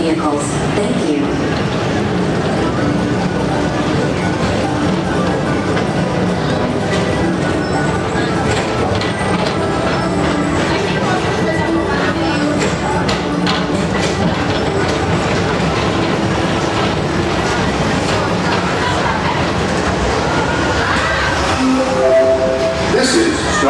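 The Magic Kingdom TTA PeopleMover ride vehicle rolls steadily along its track, a continuous close rumble with rhythmic clacking, under a recorded announcement voice.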